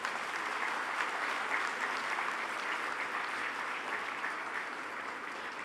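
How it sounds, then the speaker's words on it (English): At the IIM Kozhikode convocation ceremony, the audience applauds for graduating students as their names are read, a steady wash of many hands clapping from a distance that holds evenly throughout. "Can we have a big round of applause"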